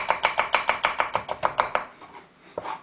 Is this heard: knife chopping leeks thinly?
yes